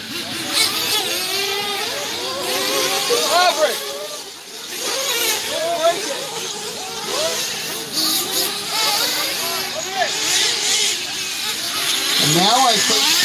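Nitro RC truggies racing around a dirt track in a main final, small engines buzzing and whining continuously at a distance, with a race announcer talking over the sound throughout.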